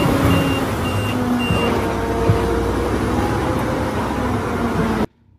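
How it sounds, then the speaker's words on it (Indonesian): A wheel loader at work with its reversing alarm beeping steadily over a loud, continuous diesel engine rumble, close by, then cutting off abruptly. "di sini ada wheel loader"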